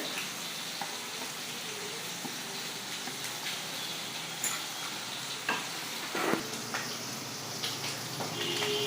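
Prawns frying in a pan for a home-style prawn dish, with a soft continuous sizzle and occasional clinks and scrapes nearby, fairly quiet with no talking.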